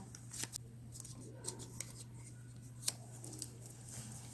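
Paper being folded for an origami Charmander and Squirtle bracelet makes quiet crinkles and a few sharper creasing snaps, close and sparse, over a low steady hum, with no speech.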